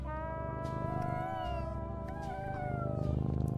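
A black cat meows in long, drawn-out wavering cries, close and fairly loud over a low steady hum.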